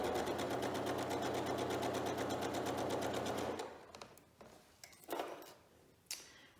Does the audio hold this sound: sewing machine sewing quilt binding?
yes